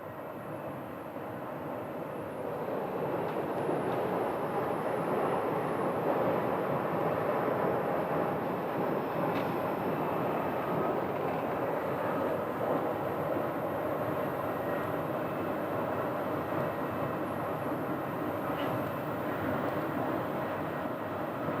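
An American Airlines Airbus A321neo jet airliner arrives at Phoenix Sky Harbor Airport. Its engines make a broad, steady roar that builds over the first few seconds and then holds at a constant level with no talk.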